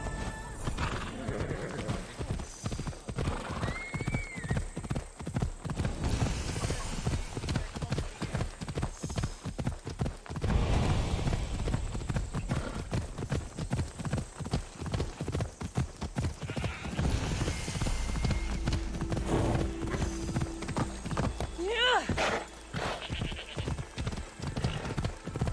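Horse hooves clip-clopping at a steady gallop in Assassin's Creed Odyssey, a long rhythmic run of hoofbeats up close with an occasional whinny and background game sounds.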